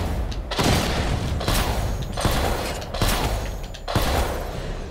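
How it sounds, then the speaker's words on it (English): Heavy cannon fire from the tank-like Batmobile in Batman Arkham Knight, a game, comes as a series of loud, booming blasts about once a second, each followed by rumbling mechanical noise. "It has a very powerful cannon on it"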